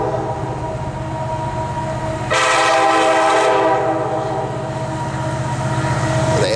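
A CSX freight train, Q696, led by an SD70 locomotive, rumbles past with a deep engine drone, and a loud horn blast sounds for about a second before fading back to the steady roar.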